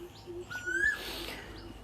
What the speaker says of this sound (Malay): Pukul 9 burung ni akan bunyi lah, duduk atas tu.